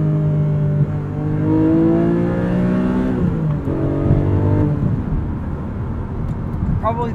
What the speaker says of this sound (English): To hear the blip from that exhaust when you downshift.